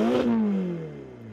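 A 2018 Ferrari Portofino engine note sweeps downward after a sharp peak, the revving tone fading as it settles, heard alone without voices.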